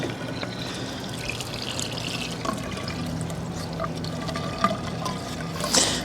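Water trickles and pours steadily from a garden watering setup as wicking garden beds fill. It is a continuous, moderately close flow with a few small splashes and drips.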